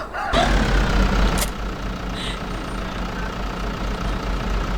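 A tractor engine idling in a farming video game, a low steady rumble running throughout, with a rooster crowing faintly and a few brief clicks and clatters over the top.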